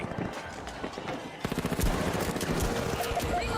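Gunfire in the arena shooter The Finals, rapid bursts of shots cracking in quick succession amid game sounds, louder in the second half, with voices mixed in.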